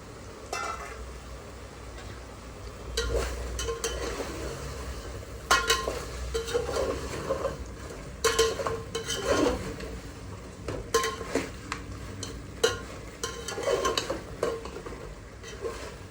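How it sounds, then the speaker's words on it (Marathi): Black spiced chicken being stir-fried in a pan: repeated close scraping and clattering of a spatula against the pan over a low sizzle, in irregular bursts that grow busier toward the end, with no talking. "आपण चांगलं परतून घेतलंय"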